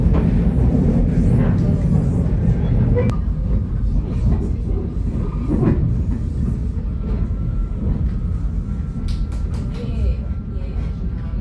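A heritage train on the Victorian Goldfields Railway in Maldon, Australia rumbles steadily along with a continuous low mechanical roar and faint clattering, with people talking over it throughout.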